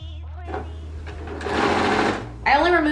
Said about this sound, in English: a couple stitches forward, a couple stitches backwards, and then we're just gonna follow